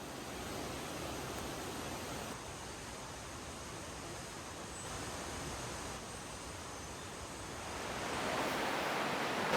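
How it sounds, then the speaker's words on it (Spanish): Steady rushing of a river flowing past the town of Aguas Calientes below Machu Picchu, a dense continuous wash of water that swells slightly louder near the end, with no voices. "El sonido del río es como... es muy tranquilo"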